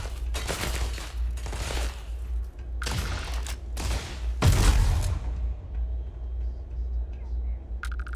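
Gunfire in the video game Starfield, several bursts of rapid shots in quick succession with a heavy thump in the middle, then quieter game ambience.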